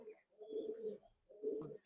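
Andra and Madrasi tournament flying pigeons coo close by in two soft, rolling phrases separated by a short pause, fairly quiet.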